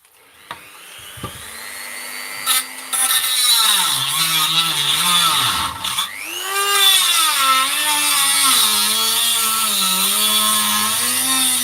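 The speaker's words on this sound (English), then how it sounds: "I'm sawing out these ridges" A loud, whining power tool grinds continuously through plastic ridges of a Makita battery, its pitch dipping and rising as it bites in, close up.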